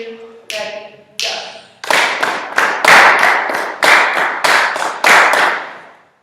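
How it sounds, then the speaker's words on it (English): Hands clapping a rhythm: a series of sharp, close claps in an even beat, starting sparse and then falling into a quick regular pattern with brief gaps. "we're going to clap it again"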